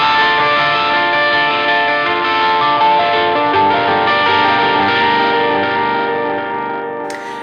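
Electric guitar through a bluesy crunch pedal with delay, sustained distorted chords ringing out with shimmering repeats, loud and close, alone without talk, swelling briefly at the very end.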